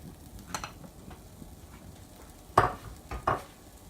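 Green chilies and spices cook in a pan for a chicken patty filling, with quiet stirring scrapes and a faint sizzle, followed by two louder clattering strokes near the end and no talking.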